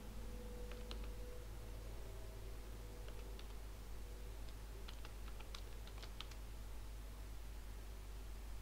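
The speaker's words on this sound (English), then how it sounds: "Hopefully I will be able to type this password without errors" A long password being typed on a computer keyboard: scattered light key clicks in irregular bursts, faint and close over a steady hiss of background noise.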